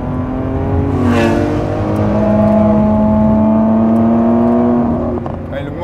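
A Lamborghini Aventador SVJ V12 roars close and loud, its pitch rising and holding through a sustained pull before easing off, with a voice talking underneath.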